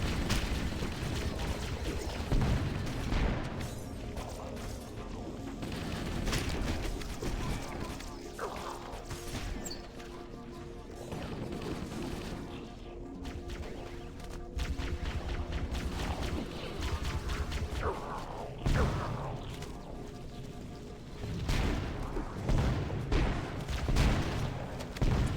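Combat erupts as the Flood ambush the player in Halo CE on Legendary, with a dense, continuous wash of crashes, booms and weapon fire that stays loud throughout.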